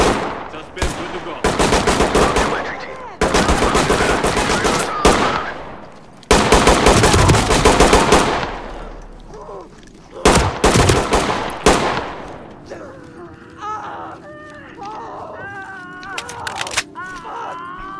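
Gunfire in Ready or Not, repeated loud bursts of automatic shots in several clusters, each burst sharp and close, with gaps between, followed by quieter clattering and a voice in the background.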